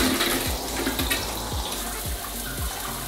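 A bathroom tap runs in a modern quarantine room in Seoul, a steady splashing water stream close by, with a faint repeated low knocking from the pipes under it.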